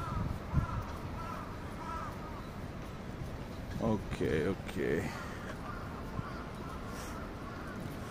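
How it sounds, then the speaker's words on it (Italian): Crows cawing at a distance in Japan, a few harsh calls at moments standing out over steady outdoor ambience, with someone speaking briefly nearby. "Sentite i corvacci."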